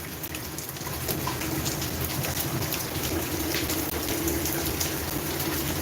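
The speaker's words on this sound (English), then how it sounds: "It's very heavy rain." Heavy rain pours down in a dense, loud, unbroken roar of drops hitting surfaces nearby, with scattered louder splashes through it and no voices.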